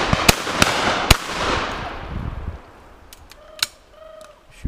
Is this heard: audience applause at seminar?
no